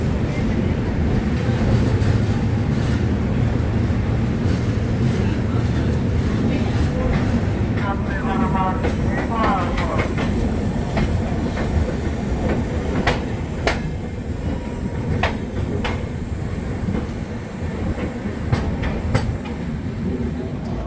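A passenger express train rumbles steadily along the rails with low continuous roar and occasional clicks and rattles, heard from inside a 3AC sleeper coach over several seconds.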